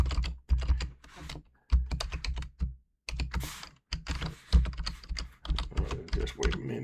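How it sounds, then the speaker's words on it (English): Typing on a computer keyboard, with rapid close bursts of key clicks broken by short pauses, continuing steadily throughout. "Don't mean to be typing while I'm talking"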